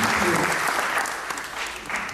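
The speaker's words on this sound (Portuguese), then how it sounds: "Vamos aplaudir fortemente." A congregation at a Thanksgiving church service for Angola's independence anniversary in London claps loudly in a dense, continuous burst that thins slightly toward the end.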